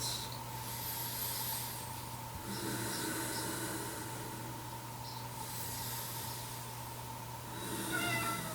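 A house cat meows several times, soft and fairly distant, in a quiet indoor room over a low steady hum during a home yoga session.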